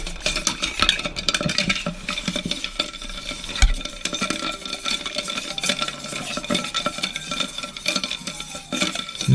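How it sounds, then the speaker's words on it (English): A Moët cocktail is stirred to chill it, giving a continuous close clinking and scraping that goes on for about nine seconds with no talk. "now give it a good stir, 15 seconds to chill it"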